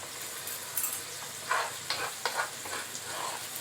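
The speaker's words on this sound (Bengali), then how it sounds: "এবার দেব টমেটো বাটা" Tomato paste cooking in a pan, a quiet, steady sizzle marked by several short bursts of spatter and stirring scrapes.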